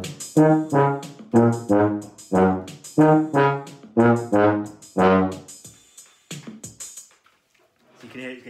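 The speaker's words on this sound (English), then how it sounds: "So you can hear it's getting louder and louder throughout the graph." A tuba plays a run of short, separate brassy notes in a steady rhythm, close and fairly loud, with the last notes trailing off.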